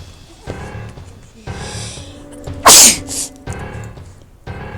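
One loud, sharp sneeze bursts out from a quiet background of faint murmuring noise.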